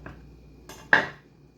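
A knife chops red onions on a cutting board: three sharp, brief chops spaced unevenly, the last one loudest, then quiet with no talk.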